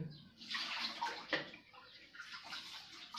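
Rice is washed by hand in water: soft sloshing and swirling splashes with a faint gurgle, near but quiet, rising and falling in short waves without speech.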